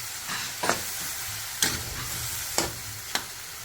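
Fish sautéing in a pan, with a steady bubbling sizzle broken by four sharp spatula scrapes spaced about a second apart. No voices are heard.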